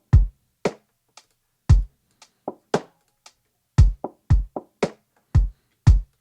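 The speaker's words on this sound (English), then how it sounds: "I love to do it with a really muted percussion sound like this." Short, dry, muted percussion hits sound in a sparse, syncopated beat pattern, each thud clipped with little ring, separated by clear gaps.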